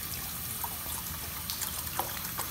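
Water pours into a French press at a camp setup with Coleman stoves, a close, steady trickling stream with small splashy accents, alone and continuous throughout.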